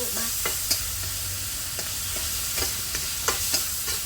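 Minced pork and holy basil stir-fried for pad kra pao, with steady sizzling and crackling from the pan and repeated scraping strokes of the spatula, close and fairly loud with no talking.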